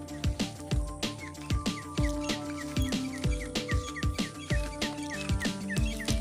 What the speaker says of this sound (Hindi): चिड़िया की आवाज़ सुन सकते हैं,